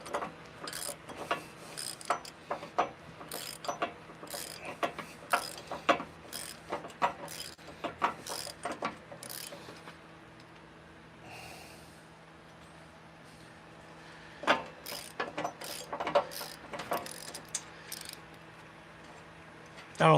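A ratchet works a bolt that is stripping in a homestead garage. It gives quiet, repeated bursts of sharp clicks in an uneven rhythm, with a lull midway before the clicking resumes.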